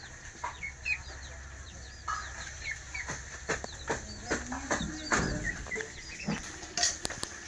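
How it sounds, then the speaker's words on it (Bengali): Chickens cluck repeatedly in short bursts at close range on a village homestead, with scattered sharper calls and a steady low background hum. "এরা হাঁস মুরগি সব পুষেছে"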